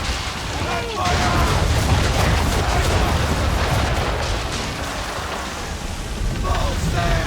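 Cannons firing in an Assassin's Creed III naval battle, heavy booms and rumbling blasts loud and continuous over rain and sea noise, with voices shouting commands faintly throughout.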